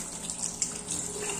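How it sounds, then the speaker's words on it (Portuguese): Cold water runs steadily from a kitchen tap over cooked conchiglioni pasta shells in a colander, a continuous close splashing hiss with no voices. "agora eu vou dar um choque térmico só ligando a torneira"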